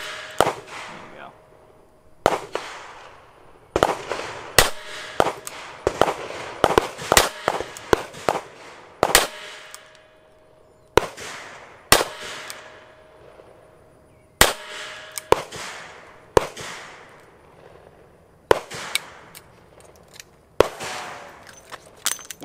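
A Taurus Defender 856 revolver fires Winchester .38 Special 130-grain full metal jacket rounds, loud sharp reports repeated many times at irregular intervals, some in quick pairs, each with a short ringing tail.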